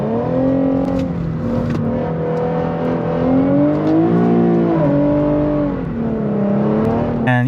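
An Infiniti Q50 in sport and manual mode with traction control off slides in the rain, its engine revving loud and steady with pitch rising and falling through throttle changes, heard from inside the car.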